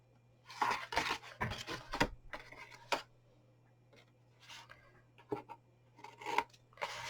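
Scissors cutting card for a homemade chocolate box, a series of short close snips in uneven bursts over a faint steady hum, with no talk.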